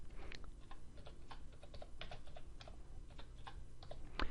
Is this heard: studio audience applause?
no